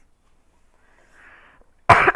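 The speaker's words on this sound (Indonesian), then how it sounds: "Sorry ya, saya agak batuk." A single loud, close cough bursts out near the end after a stretch of near silence with a faint murmur before it.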